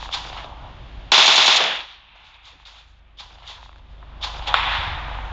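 Gunfire in the mobile battle-royale game PUBG Mobile, with a loud close burst of rapid shots, a quieter stretch of scattered distant reports, then another sharp volley near the end.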